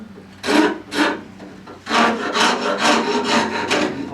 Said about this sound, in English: Get a little bit of shaping it down with the hand rasp.